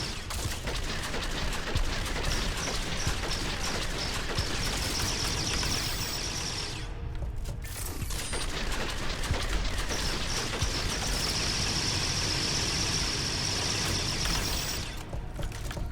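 Dense bursts of rapid gunfire and mechanical weapon clatter from a sci-fi video game fill the stretch almost without pause, loud and close, with a brief drop near the middle before the barrage resumes.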